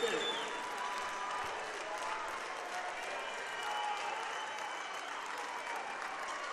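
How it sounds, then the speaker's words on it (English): A Red Devil home crowd at a Richmond boys basketball game against Marion applauds and cheers steadily after a foul-out, a dense, loud wash of clapping throughout with an announcer talking over it. "the Red Devil crowd showing their approval."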